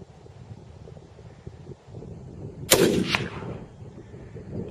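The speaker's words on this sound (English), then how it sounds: "I'm gonna shoot that one that's laying there, that's not standing up." A single sharp rifle shot fired from a bipod at a target outdoors, a loud crack partway through followed by a brief rolling echo, over steady wind noise.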